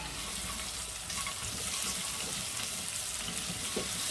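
Sliced onions cooking down with sugar in a pot sizzle and bubble steadily, with light stirring and scraping, for a beef shank braised in beer.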